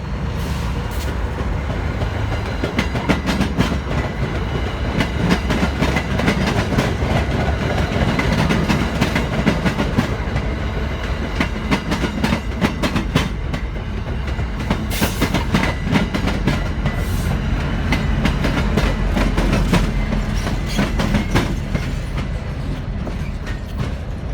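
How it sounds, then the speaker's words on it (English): An MBTA commuter train hauled by a Massachusetts Department of Transportation F40PH locomotive rumbles past at Lowell, Massachusetts, loud and close, with rapid rhythmic clickety-clack of wheels over rail joints sustained throughout. "A Westbound meets an inbound MBTA commuter train at Lowell, Massachusetts."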